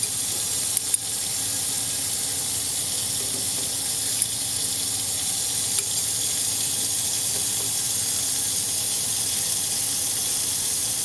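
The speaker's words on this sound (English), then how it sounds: "I'm just gonna rinse it with a lot of water." Tap water runs steadily into a lab sink as an aqueous sample is rinsed during an organic chemistry experiment, a continuous close hiss of flowing water with no speech.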